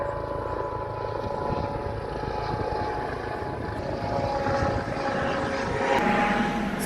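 Low-flying aircraft engine drone overhead near Snoring Cove, a steady rumbling roar mixed with hard wind gusts of at least 25, swelling louder toward the end, no talk.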